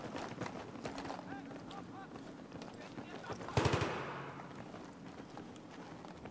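Gunfire in Battlefield 3 rings out in a short burst of sharp shots, with a louder blast in the middle that fades slowly. Players talk over the game sounds.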